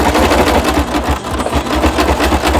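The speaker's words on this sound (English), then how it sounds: "basically you're just going to sew on top a stitch, good side to good side" A sewing machine stitches through overlapped fabric triangles for a homemade crop top, a loud, steady fast-running whir with continuous rhythmic needle chatter and no talking.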